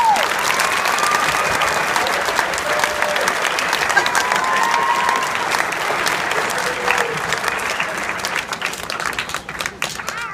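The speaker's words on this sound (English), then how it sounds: "So give him a quick round of applause." Steady applause from a concert audience, filling the room evenly at moderate loudness and holding for about ten seconds with a few faint voices scattered through it.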